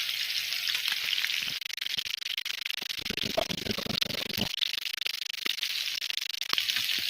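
Scotch fillet steak sears in a hot pan with a steady, dense sizzle and crackle. The sound is close and continuous, with brief spits and pops and no talk.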